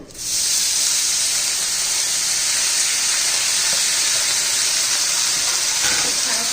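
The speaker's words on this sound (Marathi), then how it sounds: "आता त्याच कढईमध्ये थोडं तेल घालू घ्या आपण ही जी बारीक चिरून घेतलेली मेथी आहे ना ती घालून घेऊ" Finely chopped fenugreek leaves hit hot oil in a kadai, bursting into a loud, steady sizzle and hiss that holds evenly close up, with a faint stir near the end.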